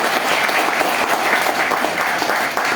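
An audience at a seminar applauds, dense sustained clapping from many people filling the room, loud and continuous throughout.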